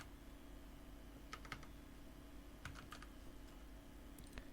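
Code is typed on a computer keyboard in a quick, irregular run of soft key clicks over a low steady hum, close by and with no talking.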